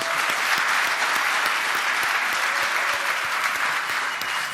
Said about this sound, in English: So I just want to give him a round of applause, man.